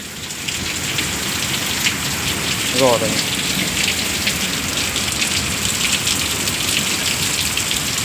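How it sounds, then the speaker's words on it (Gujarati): Heavy rain pours steadily during a storm, a dense continuous hiss on the surfaces nearby, with a brief voice speaking faintly under it near the middle. "વરસાદ પાછો ચાલુ થઈ ગયો છે અને પાછો વરસાદ આવવા મળ્યો હવે"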